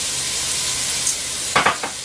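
Mushrooms and onion frying in a pan, a steady bright sizzle throughout with a few brief louder crackles and stirring scrapes near the end.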